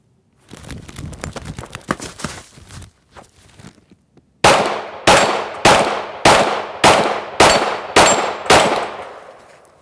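Handgun shots fired after a draw from a Wright Leather Works Banshee leather holster: eight loud, sharp reports at a steady pace close by, following a few seconds of rustling and handling noise.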